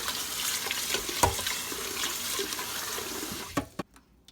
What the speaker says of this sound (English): You have to rinse it like 2 to 3 times like this.